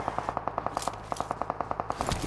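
Rapid automatic gunfire in the PUBG Mobile battle royale game, a steady string of sharp evenly spaced shots with a brief pause midway, moderately distant and alone without talk.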